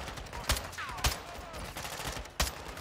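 Gunfire in Call of Duty: Modern Warfare II, a few sharp separate shots spaced apart at moderate loudness over quiet game ambience, with no talking.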